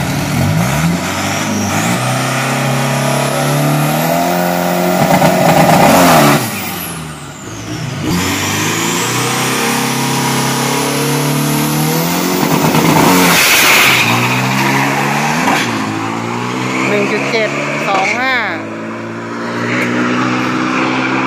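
A Toyota Vigo Giraffe Turbo 3000 pickup makes a drag racing run, its loud engine revving hard through repeated rising gear pulls with brief dips between shifts, continuous and close throughout.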